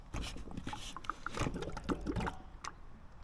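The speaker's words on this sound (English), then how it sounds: "you can hear the water flowing" Water runs from the tap of a 1000-liter IBC tote in a steady, soft stream with some light clatter, fairly close and heard alone without talk.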